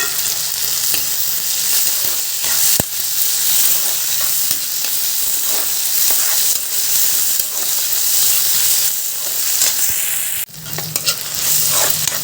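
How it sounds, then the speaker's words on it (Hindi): Chopped onion and tomato sizzle steadily in a pan for chicken masala, a loud continuous frying hiss with occasional scrapes and knocks of stirring, close up and without talk. "तो फ्रेंड्स प्याज भी अच्छे से फ्राई हो गया।"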